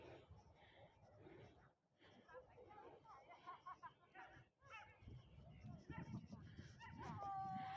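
A dog whimpers and gives short high yips, fairly quiet, amid background voices and some bustle.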